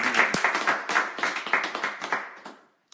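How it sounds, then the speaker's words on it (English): Audience at an online ministry event clapping in distinct bursts with some cheering, moderately close, fading to silence near the end. "Let's clap and shout out to Alex."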